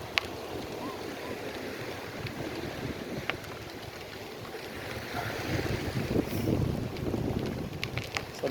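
Strong east-to-west wind gusting at Fort Myers Beach, Florida, a steady roaring buffet across the microphone with surf-like rumble underneath, swelling louder toward the end, no talking.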